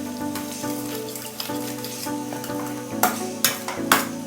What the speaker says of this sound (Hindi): अब इसको मिक्स चलाएंगे हम इस तरीके से।